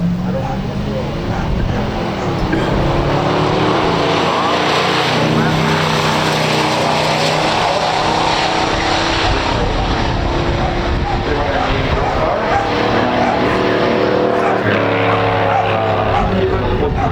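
A 1969 Hurst Olds and a 1965 Buick Gran Sport roar down a quarter-mile drag strip in a stock drag race, a loud sustained engine drone that rises steadily in pitch, close and continuous with no speech.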